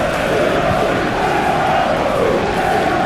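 A stadium crowd roaring in the football game SP Football Life 2026 during a Premier League match between Liverpool and Brighton, a loud, dense, unbroken swell of cheering voices filling the whole stretch.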